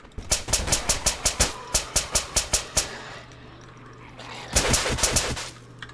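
Rapid automatic gunfire in the zombie survival game Survive the Nights, a fast regular burst of about a dozen sharp shots, a pause, then a second denser burst, loud and close.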